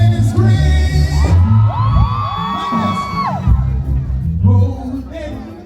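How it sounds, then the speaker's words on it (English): Women in a reggae concert crowd scream in high, rising shrieks, several overlapping yells over loud live music and crowd noise, bursting out for a few seconds then easing back. "ladies scream."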